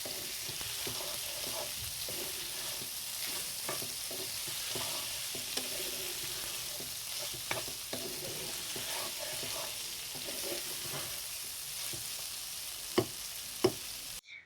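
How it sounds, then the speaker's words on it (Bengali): Pasta being stirred into tomato in a hot pan, a steady sizzle broken by frequent scraping stirs and a couple of sharper knocks near the end, with no talking. "টমেটোর লগে মিক্স করে নিব।"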